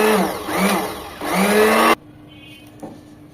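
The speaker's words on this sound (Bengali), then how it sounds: "এরপর আরেক মিনিট ব্লেন্ড করে নেব" An electric kitchen blender whirs loudly as it blends a homemade Tang drink, two surging motor bursts that cut off sharply, followed by quiet clinks.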